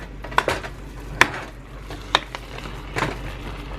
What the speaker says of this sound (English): Browning the meat.